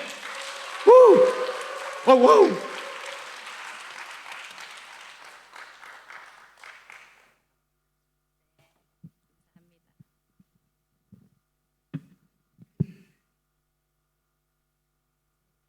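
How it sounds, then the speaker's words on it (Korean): An audience at a lecture claps, with a few loud bursts that trail into fading applause over several seconds, followed by silence broken by sparse soft knocks; a voice exclaims briefly near the start. "우리 아이돌 나오는 수준 이상으로 크게 한번 격려의 박수"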